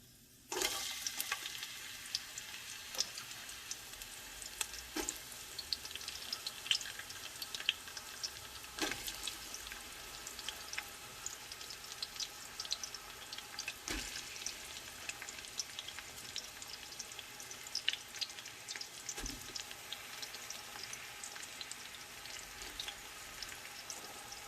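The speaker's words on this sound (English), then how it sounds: "You can see it's started to splutter now." Bay leaves spluttering in hot oil in a biryani pan, a steady dense sizzle with occasional sharper pops and crackles throughout, close and fairly loud, no voices.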